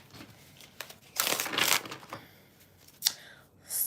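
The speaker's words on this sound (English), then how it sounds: "Let me just shuffle." A deck of tarot cards being shuffled by hand, papery riffling and rustling bursts of varying loudness close to the mic with quiet gaps between, no talk.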